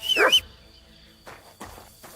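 A single sharp, clipped dog bark in the video game Kingdom Come: Deliverance II, followed by quiet and a couple of faint rustling sounds.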